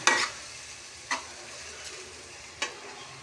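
Onions and tomatoes fry in a pan with a soft, steady sizzle, broken by a few short stirring scrapes of a utensil, close and fairly quiet, with no talk.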